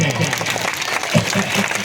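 Crowd clapping at a political rally in Alamnagar, Madhepura, steady dense applause under a voice talking over it.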